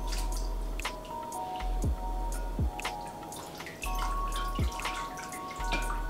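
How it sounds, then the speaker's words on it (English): Sea moss is lifted out of a bowl of soaking mineral water, shedding a string of close, wet drips and small squishy splashes over a few seconds. "So I'm just gonna take my sea moss that has been soaking in our mineral water here."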